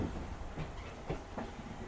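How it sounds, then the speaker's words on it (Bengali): A train runs alongside on a suburban rail line near Howrah, with steady rumbling and rhythmic clickety-clack of wheels over rail joints, close and continuous. "এই একটা ট্রেন পাশাপাশি যাচ্ছে"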